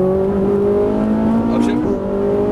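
Ferrari 458 Italia on a race track accelerating out of a corner, a loud steady engine drone with a rising tone and a brief shift-like dip partway through, heard close.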